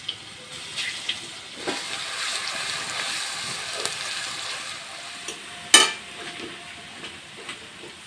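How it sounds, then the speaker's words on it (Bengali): Garlic paste fries in hot oil with dried red chili and bay leaf, giving a steady soft sizzle with occasional louder pops and a sharp clatter near the end. "রসুনটা আমার ভাজা হয়ে গেছে"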